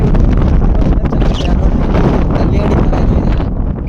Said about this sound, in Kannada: ಹೆವಿ ಗಾಳಿ ಬೀಳಿಸ್ತಾ ಇದೆ, ಬಿಸಿಲೇನಿಲ್ಲ.